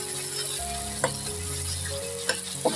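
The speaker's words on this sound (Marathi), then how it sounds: "आता मी व्यवस्थित मिक्स करून घेणार आहे टमाटे." Tomatoes cooking in oil sizzle steadily while being stirred, a continuous frying hiss broken by a few sharp utensil scrapes and clicks.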